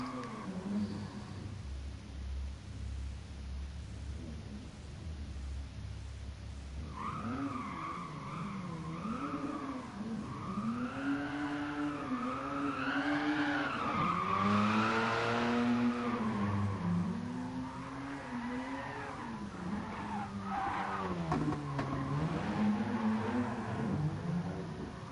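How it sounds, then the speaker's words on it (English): Drift car in a racing game at Bathurst, its engine droning at fairly low revs with wavering pitch while tires squeal and skid in long smeared bursts, steady and close. "it is a bit of an odd drift car in that the sound of the engine doesn't sound like it's revving very high"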